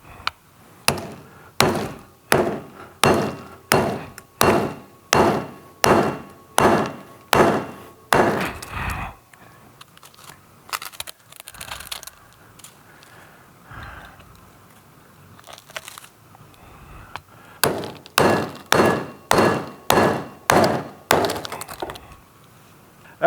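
A four-pound hammer breaks a rock boulder into pieces for a reef aquascape: a fast run of about a dozen loud, sharp stony cracks, a quieter pause with scraping, then another rapid burst of heavy strikes.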